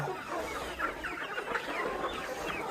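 Several chickens cluck and chatter close by, a busy overlapping flurry of short clucks over a quiet background.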